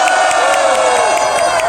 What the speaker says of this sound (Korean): 우리 김성 변호사에게 크게 함성!